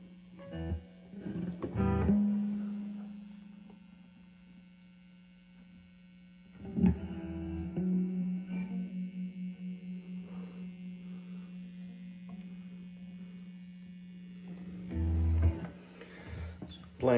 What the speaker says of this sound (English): It's playing through a custom Vibrolux reverb from 20 years ago or so.